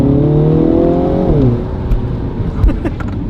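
A Mini John Cooper Works Countryman engine hums steadily with a rising tone, then drops in pitch as it shifts or eases off, followed by rumbling and faint clicks.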